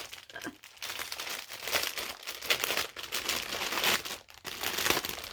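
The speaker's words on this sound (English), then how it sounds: "Sorry for the crinkling, guys, but kind of can't get away from that if I want to open this." Plastic packaging crinkles and crackles close by as it is pulled open, in irregular bursts of rustling with brief pauses between handling.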